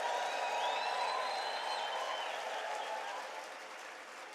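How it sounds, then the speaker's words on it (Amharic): A church congregation applauds, with dense clapping that is loud at first and gradually fades. Faint cheering and ululation-like tones rise above it. "እልልታ ጭብጨባ ጩኸት"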